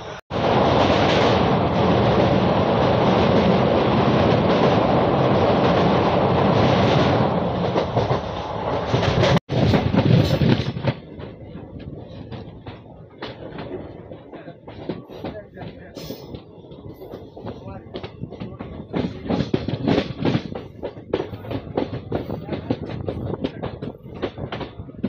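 ICF coach train running along the track, a loud continuous roar of wheels for the first ten seconds, then a quieter steady rumble with rhythmic clickety-clack beats over the rail joints, with no talk.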